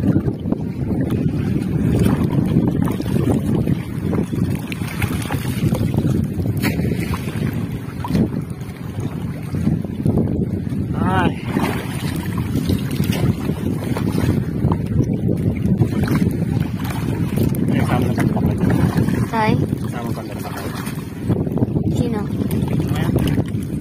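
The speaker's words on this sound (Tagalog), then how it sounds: "pasensya na sa malakas ang hangin" Strong wind buffeting a microphone outdoors by the sea, a constant loud rumbling roar with gusty surges throughout, while people talk beneath it.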